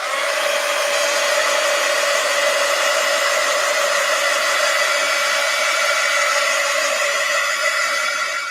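A hair dryer blows steadily to dry paint on an art journal cover, a loud, close, unbroken whooshing roar with a constant motor whine and no talking.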